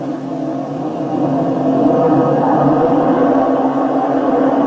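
Touring car engines at Mid-Ohio in 1996 rev up ahead of the green flag, a loud, steady, building engine roar from a pack of cars with no voices over it.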